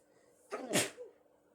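A single sharp sneeze bursts out close by, with a quick breathy intake just before it, then quiet.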